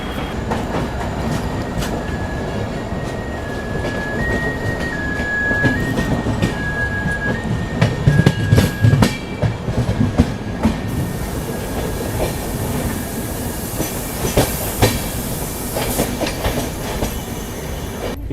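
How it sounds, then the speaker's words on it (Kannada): Humsafar train pulling out of Surat railway station, heard from on board: a steady loud rumble with rhythmic clickety-clack of wheels over rail joints and occasional squeals, a faint tonal whine running through, no talking. "ಸೊ ಇದು ಎಕ್ಸಾಕ್ಟ್ಲಿ 3:28ಗೆ ನಾವು ಡಿಪಾರ್ಟ್ ಆಗಿಬಿಟ್ಟಿದ್ದೀವಿ ಸೂರತ್ ರೈಲ್ವೆ ಸ್ಟೇಷನ್ ಇಂದ"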